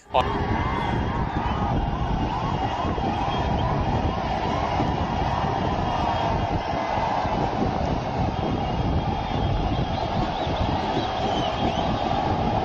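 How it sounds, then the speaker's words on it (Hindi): An ambulance siren wails continuously as the vehicle moves through a huge crowd at a victory parade in Mumbai, its loud warbling tone steady and close over a dense murmur of the crowd. "सायरन बजता गया, रास्ता बनता गया।"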